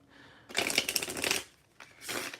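A tarot deck is riffled and shuffled up close, with a burst of crisp, flapping card noise, a brief pause, then a second shorter shuffle.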